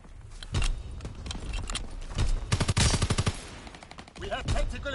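Bursts of automatic gunfire and single shots in the World War II video game Call of Duty WW2, loud and close, with rapid clustered volleys and brief pauses between them.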